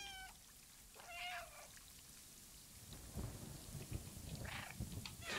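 A cat meows in a cat adventure video game, a few short, clear mews near the start, followed by low rumbling and pattering like a thunderstorm with rain.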